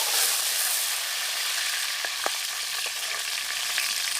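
Cumin seeds, whole spices and curry leaves hit hot oil for a gutthi vankaya (stuffed eggplant) curry, giving a steady hiss and sizzle with a few sharp crackles and pops, close up with no voices.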